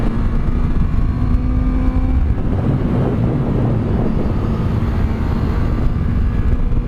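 A Honda CB650F four-cylinder motorcycle engine accelerating on the road: a continuous loud, low engine drone heavily mixed with wind rush, close to the microphone, with no speech.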